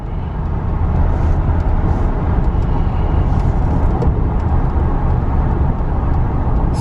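A stock 2006 Ford Crown Victoria P71 accelerates hard from a standstill toward 60, its engine roaring loud and steady from inside the car with the road rumble building throughout.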